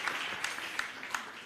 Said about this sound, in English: Give me a round of applause too now.